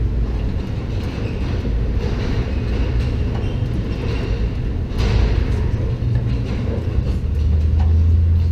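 A tram full of riders rolls through a reverberating tunnel beneath a motor speedway, its steady rumble and rail-like clatter booming off the walls, with occasional thumps and no voices.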